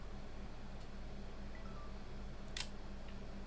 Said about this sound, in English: there should be just the clack of the shutter closing